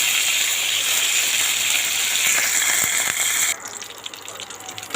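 Dry red chillies and curry leaves tossed into hot oil for a crunchy flattened-rice snack give a loud, steady broadband sizzle, close up, that drops abruptly to a quieter crackle after about three and a half seconds, with no talking.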